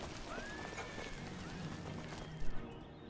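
A horse in the video game Oblivion clip-clops steadily and gives a faint drawn-out whinny, low in level beneath a dense wash of game ambience, with a couple of louder knocks near the end.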